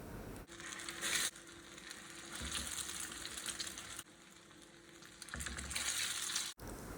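Potato cutlets shallow-fry in medium hot oil, a steady close crackling sizzle broken by a couple of brief cuts, fairly quiet throughout.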